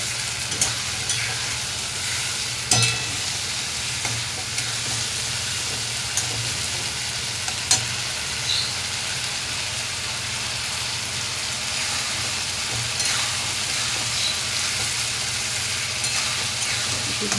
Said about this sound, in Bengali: একটু গরম মশলা দিয়ে নাড়ব